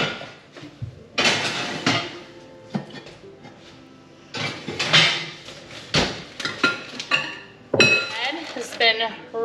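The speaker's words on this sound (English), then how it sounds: "I'm gonna put these Dutch ovens in here to preheat with the oven" Cast iron Dutch ovens set into a hot oven to preheat, giving heavy metallic clanks and clinks with rack rattles in separate bursts, while a person talks between them.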